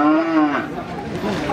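A heavy Limousin cow of over a ton lets out a single close, low, drawn-out moo that bends in pitch and fades in the second half.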